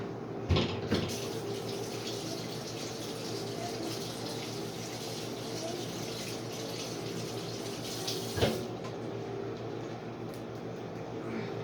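Kitchen tap water running steadily to rinse a pot, a loud continuous close stream with a couple of brief clunks of the pot under the flow.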